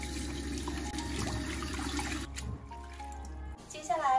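Fresh bean sprouts and youchoy lettuce are rinsed clean under a running kitchen tap, a steady close rush of water with splashing that shifts and briefly breaks off near the end.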